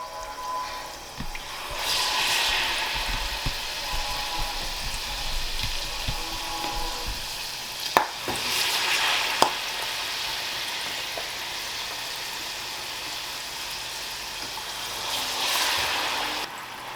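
Healthy mix energy balls deep frying in hot oil, a steady hissing sizzle with swells of bubbling and a few sharp clicks and knocks, close and moderately loud.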